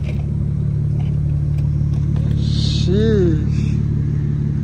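A steady, close idle from a BMW N54 engine converted to a single turbo, running on its first start, with a brief whistling sweep partway through and people talking over the drone.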